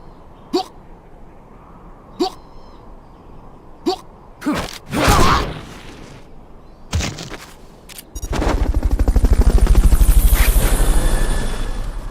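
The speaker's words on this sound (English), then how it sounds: "Fulton recovery subject confirmed onboard helicopter." Helicopter in the video game Metal Gear Solid: Peace Walker: a loud, steady rotor chop fills the last four seconds, after several short sharp game effects and brief bursts.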